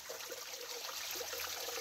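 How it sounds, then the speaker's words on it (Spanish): Spring water trickles steadily into a clear natural pool at its source, a soft continuous bubbling and splashing without any voices. "ahí está todo el nacimiento de agua."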